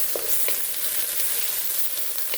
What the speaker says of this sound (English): then we'll throw the garlic in. Then we'll put in the ginger. All right, and then we'll saute it.